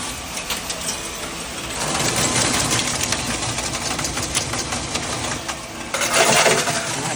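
A coin tower builder mechanism inside a Lai Tornado arcade game runs with a steady, dense mechanical whirring and rattling of coins, loud and continuous with a brief louder surge near the end.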